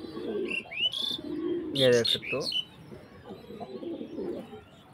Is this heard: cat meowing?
no